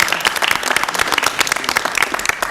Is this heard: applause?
yes